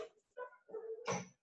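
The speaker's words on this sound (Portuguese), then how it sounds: "Meu cachorro vai lá latir." A dog barks indoors in a few quick, faint yelps and barks, the last burst the loudest, with no talk over it.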